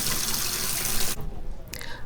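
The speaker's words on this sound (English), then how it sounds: "and I'm gonna rinse them." Peeled, cut potatoes rinsed under a running kitchen tap, a steady rushing stream of water splashing into a sink that cuts off abruptly partway through, leaving a brief quieter gap before a short splash resumes.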